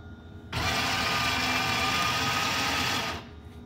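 A battery-powered paper towel dispenser in a garage runs its motor on low battery, giving a steady, close mechanical whirr that starts abruptly, holds for about two and a half seconds, then cuts off.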